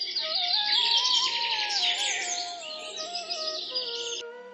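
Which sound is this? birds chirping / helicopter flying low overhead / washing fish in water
birds chirping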